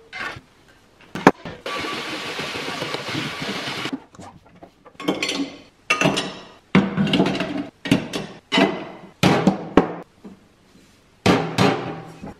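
Pots, pans and lids being pulled out and emptied from a kitchen cabinet, a series of loud close metallic clanks, scrapes and rattling bursts separated by short pauses.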